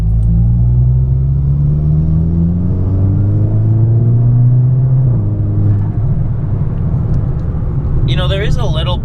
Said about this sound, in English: now that it's off, I hear a lot of intake noises